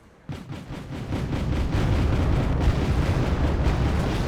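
A heavy artillery barrage roars in the Cold War strategy game Wargame: AirLand Battle. It opens abruptly, then swells into a loud, continuous rolling rumble of overlapping blasts that carries on without letup.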